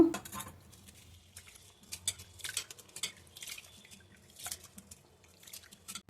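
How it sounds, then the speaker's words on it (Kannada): Two cups of dosa rice rinsed in water by hand for turmeric leaf kadubu: intermittent wet swishing and light clattering bursts, close and fairly quiet, with no talk. "ಇದನ್ನು ಎರಡು ಮೂರು ಸಲ ನೀರಿನಲ್ಲಿ ಚೆನ್ನಾಗಿ ತೊಳಿಬೇಕು"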